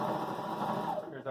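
A Husqvarna Viking Emerald 118 sewing machine runs a 2.5 mm straight stitch through a pair of jeans, a steady close whirring hum for about a second with a faint voice underneath.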